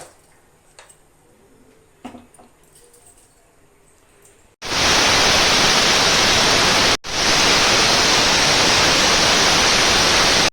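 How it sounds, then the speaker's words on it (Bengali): A pressure cooker of boiling rajma lets out its whistle: after some quiet kitchen clicks comes a loud, sustained hissing blast, briefly broken and then resumed at full strength. "বন্ধুরা 2টা সিটি মেরে দিয়েছে"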